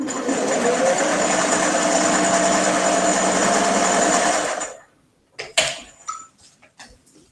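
A 404 sewing machine runs fast and steadily with a loud, even high-pitched whir, then stops abruptly, followed by a few scattered clicks and knocks of handling.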